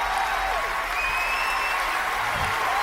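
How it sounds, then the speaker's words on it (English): A dense wash of clapping and crowd noise in the game Lord of the Rings Online fills the clip continuously, with faint tonal game sounds drifting over it. "And then we got applause."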